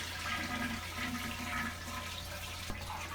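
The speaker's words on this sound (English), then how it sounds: "and flush the toilet." Toilet flushing in a toilet with a noisy, whistling fill valve that keeps running: a steady rushing swirl of water close by with a faint hum beneath, continuing throughout and heard without talk.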